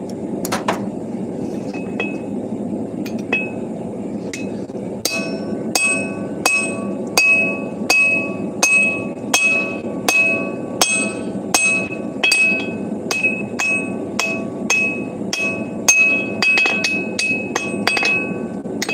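A heavy 5.5-pound forging hammer strikes metal again and again in a steady, fairly quick rhythm. Each blow rings out sharply over a low background rumble, and there is no talking.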